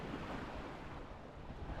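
Sea waves wash steadily under gusting wind on open water near a Swedish nature reserve shore, a dense, continuous roar with rumbling wind buffeting the microphone.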